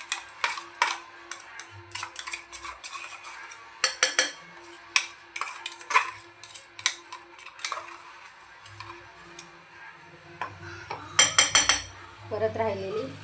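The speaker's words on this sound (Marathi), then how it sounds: "आपण हे ग्राइंड पेस्ट आता यामध्ये काढून घेऊ." A spoon scrapes and taps ground paste out of a metal grinder jar, giving sharp, irregular clinks and scrapes close up, with a dense burst of rapid knocks near the end.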